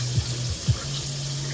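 Cold water runs steadily from a kitchen faucet, a close, constant splashing rush with a few brief gurgling surges and no talk.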